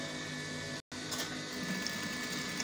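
A sewing machine runs steadily while stitching waistcoat panels with a half-inch seam, a continuous close, even motor whir broken by one brief gap near the start.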